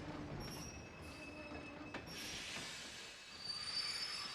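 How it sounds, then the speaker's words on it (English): A video game train pulls into a station, wheels squealing and metal ringing in a long, steady screech with faint rail clatter, heard alone. "The train will be arriving shortly."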